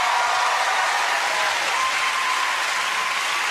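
A studio audience at a family game show applauds the Khan family, a steady, dense wash of clapping from a large crowd with no voices on top.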